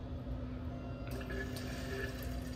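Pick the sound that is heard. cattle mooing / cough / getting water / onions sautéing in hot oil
getting water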